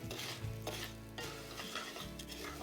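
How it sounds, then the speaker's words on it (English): Orzo toasting in butter and garlic in a pan: continuous soft sizzle with a spoon scraping and stirring, quiet and close, no voices. "I just want to toast the orzo just a little"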